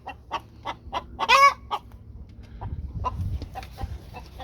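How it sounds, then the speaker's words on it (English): Young chickens cluck in short, quick notes, and one louder squawk breaks in near the middle. A low rumble of background noise follows, and no one speaks. "You want to make sure that they're young chickens getting ready to get into laying."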